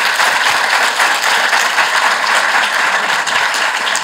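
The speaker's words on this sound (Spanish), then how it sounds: "Se merecen el aplauso." Loud, dense applause from a conference audience at a women's and girls' empowerment forum. Steady clapping fills the whole stretch without a break.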